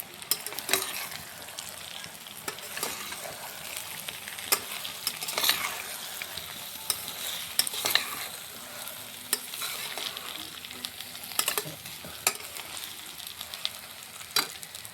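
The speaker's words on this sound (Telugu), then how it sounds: "కారంతో పాటు కొంచెం కొత్తిమీర వేసుకొని దీన్ని ఒకసారి కలుపుకోవాలి." Brinjal curry with coriander being stirred in a hot pan, a soft continuous sizzle with light scraping strokes of a spoon repeating throughout, close and fairly quiet.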